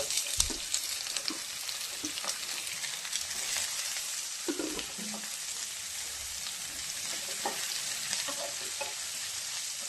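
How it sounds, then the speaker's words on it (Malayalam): Onions frying in a pan at the start of an onion and okra curry, a constant hissing sizzle with occasional soft stirring clicks and scrapes, fairly quiet and without speech. "ആദ്യം നമുക്ക് ഇടേണ്ടത് ഉള്ളിയാണ് ഉള്ളി ഇട്ടൊന്ന് വാടിക്കഴിഞ്ഞിട്ട് നമുക്ക് വെണ്ടക്ക ഇട്ട് കൊടുക്കാം"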